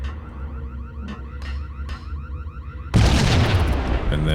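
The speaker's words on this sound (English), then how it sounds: "I'm just gonna throw a grenade." Grenade exploding in the 2001 PC game Max Payne, a sudden loud blast with a rumbling, noisy tail after a stretch of quieter background sound and faint clicks.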